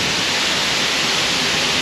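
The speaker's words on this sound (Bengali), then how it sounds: "এটা হচ্ছে আর্টিফিশিয়াল ঝর্ণা" An artificial waterfall in hot weather near the Oman border gives off a steady, dense rush of falling water, loud and continuous with no breaks or voices.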